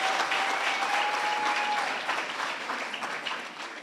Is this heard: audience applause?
yes